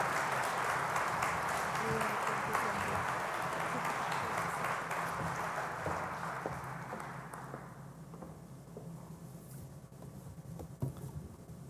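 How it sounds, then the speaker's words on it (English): Audience applause at a session of the 59th Ordinary Congress in Las Vegas, 2024, a dense, loud wash of clapping from a large crowd that gradually thins and fades over about twelve seconds, leaving sparse scattered claps and room tone. "Let's give another big round of applause for Gracie and Kirsty Burrows."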